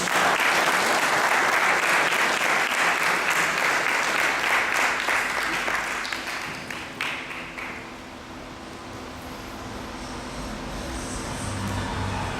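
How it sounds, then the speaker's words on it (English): A crowd gives a warm round of applause for a speaker at a talk, dense sustained clapping that fades after several seconds into a quieter room murmur. "let's give him a warm round of applause for Brother Asar"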